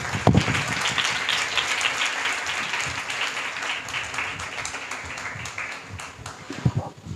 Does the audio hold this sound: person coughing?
no